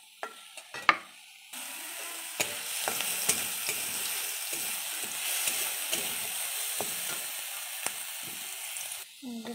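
Sattu (roasted gram flour) fries in oil in a wok, starting after a few light clinks and then becoming a bright, even sizzle with soft stirring scrapes throughout.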